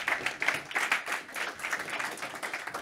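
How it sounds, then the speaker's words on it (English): A conference audience applauds to welcome a speaker, a brief, fairly faint patter of many hands clapping together. "please join me in applauding"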